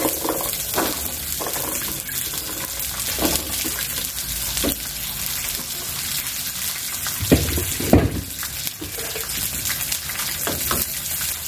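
Green beans frying in a little oil in a hot pan give off a steady close sizzle, broken by a few sharper crackles and louder spits near the end, with no talking.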